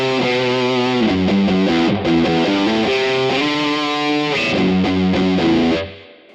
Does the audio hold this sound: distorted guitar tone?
yes